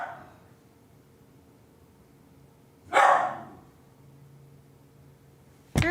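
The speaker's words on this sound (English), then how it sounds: "stop barking at people." A dog gives a single loud, sharp bark close by in a quiet room, with a faint yip at the start and another bark cut off at the very end.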